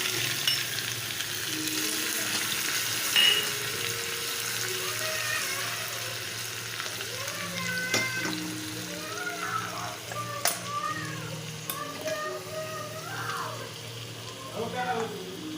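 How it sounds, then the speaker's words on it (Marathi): Garlic cloves fry with asafoetida in hot oil, giving a continuous close crackling sizzle while a voice talks intermittently over it. "लसूण चांगला लालसर होऊन द्यायचा"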